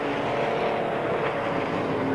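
Front-engine V8 GT racing cars, a Marcos and a Mustang, at Donington circuit in a 1997 British GT Championship round, their engines roaring in a loud, continuous, throaty drone with no talk over it.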